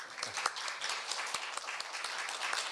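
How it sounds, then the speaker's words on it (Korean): An audience at a university lecture claps steadily in a moderate, continuous patter of many hands, with no talking over it. "박수 한번 해주세요"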